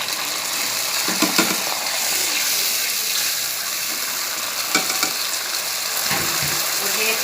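Green chillies frying in a pan for dragon chicken, a steady loud sizzle with occasional crackles and stirring clatters, close up and continuous.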